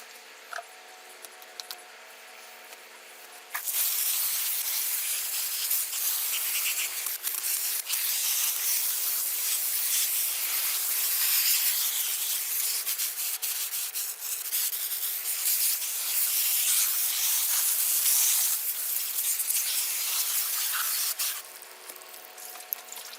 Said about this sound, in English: So let me get a hose set up and we'll get this thing out and rinse it off.